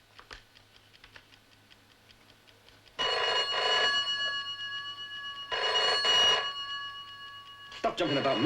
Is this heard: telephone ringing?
yes